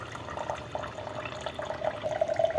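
Water from a Water Drop Core reverse osmosis filter running into a glass in a hot garage, a soft trickling stream with gentle bubbly splashes, quiet and close, rising slightly as the glass fills.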